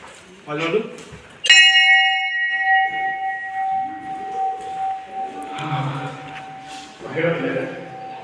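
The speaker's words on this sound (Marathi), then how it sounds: "घंटा वाजवला कोणतरी" A metal bell in a village goddess temple in Kotwal, Konkan, is struck once, clear and close, and its ringing tone decays slowly. People talk nearby before and after the strike.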